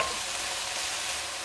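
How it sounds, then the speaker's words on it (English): Ground beef and broccoli florets stir-frying in a hot pan, a steady close sizzle with stirring that continues without a break and no talking. "stir fry it a little bit more"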